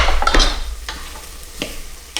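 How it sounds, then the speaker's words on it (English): Garlic sautés in a pan, opening on a burst of sizzling with a spatula stirring, then settling into a softer hiss broken by a few scattered scrapes and taps. "we're just going to do the same again with the garlic. We're just going to saute that as well"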